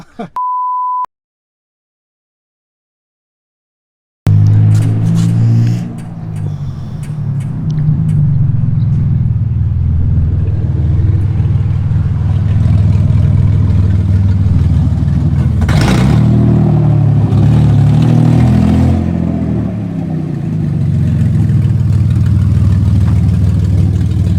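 A BMW E30 with an S52 engine and open headers drives loudly, a short beep and a pause giving way to a heavy, continuous engine drone that swells and eases for about twenty seconds.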